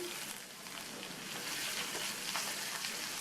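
Sliced garlic and ginger sauté in hot oil with cumin, giving a steady, soft sizzle that runs the whole time with faint crackles and no voices over it.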